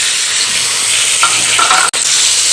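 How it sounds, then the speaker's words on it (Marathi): Loud, close sizzling and hissing of chicken frying in hot oil, with a brief clatter of stirring near the end. "चिकन आपल्याला या तेलामध्ये थोडंसं शिजवून घ्यायचं आहे"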